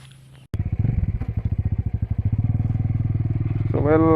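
A Bajaj Dominar 400 motorcycle with a 373cc engine starts up with a rapid, even thudding exhaust beat, loud and close, then revs higher near the end.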